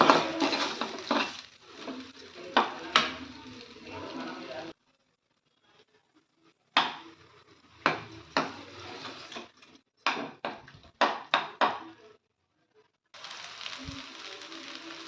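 Ginger sautéing in oil in a pan for ginger pickle, heard as a soft sizzle with repeated scraping and clinks of a spoon against the pan in short bursts separated by quiet gaps.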